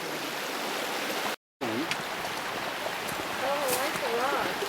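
A creek flows steadily as a broad, continuous rush close by, broken by a short dropout, with faint chirping birds above the water noise.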